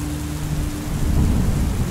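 Thunderstorm with heavy rain in open countryside: a low, steady rumble of thunder with a dense hiss of downpour, swelling louder toward the end, with no voices.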